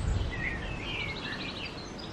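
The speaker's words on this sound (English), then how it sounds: "Love hearing all the birds." Birds sing in a spring backyard garden near a fence and compost heap, with faint high chirps and short warbling phrases drifting over a low, steady outdoor background.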